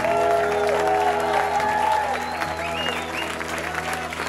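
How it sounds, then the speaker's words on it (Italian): A crowd at a concert in Zurich applauds loudly, dense clapping filling the space, gradually easing off toward the end, with a few tonal sounds drifting over it. "E allora un applauso enorme,"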